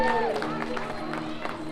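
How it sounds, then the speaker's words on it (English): Audience at an orchard family show applauding a volunteer coming on stage: a moderate, scattered patter of clapping and murmurs from a small outdoor crowd, with talking over it. "Let's give our volunteer a huge round of applause."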